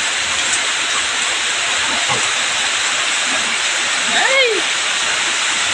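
Floodwater after heavy rain rushing loudly and steadily behind a house, a constant roaring wash with a person briefly exclaiming over it.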